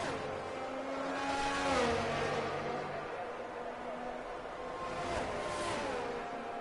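Race cars in a racing game crossing the finish line, their engines droning and shifting pitch as they pass, under a commentator's voice.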